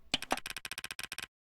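Rapid digital typing ticks from a subtitle effect in the Rec Room video game, about a dozen quick clicks in a steady run, close and crisp, then silence.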